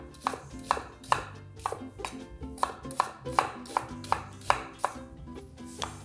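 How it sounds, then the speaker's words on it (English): A knife slices garlic on a cutting board in steady, crisp chops, about one every half second, close and distinct, while soft background noise runs beneath with no talking. "All right, so I'm just gonna go ahead and slice."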